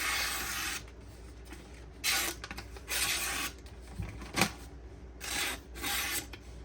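Repeated rasping strokes of a Benchmade 2551 Mini Reflex knife blade on a Naniwa whetstone, close and steady, in several bursts of varying length with brief pauses between.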